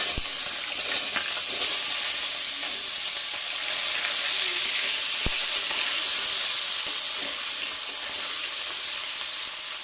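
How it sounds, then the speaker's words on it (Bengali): Potatoes sizzle steadily in hot oil already spiced with tempering seeds, a dense continuous crackle and hiss for a vegetable curry with ridge gourd, with a few sharp clinks of a utensil against the pan. "ফোড়নটা দু এক সেকেন্ড ভেজে নেব এবার আলুগুলো দিয়ে দিচ্ছি"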